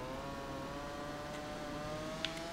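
Steady high-revving whine of a Yamaha motorcycle in Valentino Rossi The Game, a sharp engine note compared to a two-stroke that climbs gently over a few seconds, with no voices.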